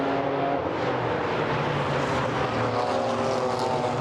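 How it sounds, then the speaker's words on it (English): A Porsche GT4 race car in a European Series race at Brands Hatch, a loud sustained engine roar with a steady drone throughout, close and unbroken. "Constantin Schürrle coming under attack there in the Porsche."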